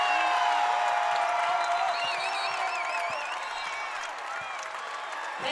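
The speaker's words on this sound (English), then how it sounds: "Standing ovation for this Buckeyes crowd." Crowd noise at an Ohio State women's basketball game against Penn State, a broad roar of cheering, whoops and clapping from the stands, with whistle-like tones and a voice over the top.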